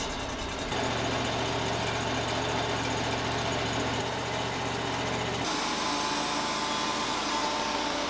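The engine of a portable sawmill drones steadily while milling, a constant loud mechanical hum with a low tone that cuts out partway and leaves the broadband running noise continuing.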